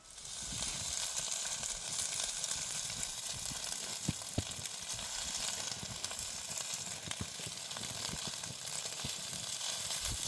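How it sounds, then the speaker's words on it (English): Orzo with eggs and sausages sizzles on an outdoor grill, giving a continuous close frying hiss with scattered pops and crackles throughout. "just cooking some orzo here with some eggs. Got some sausages on the holler grill"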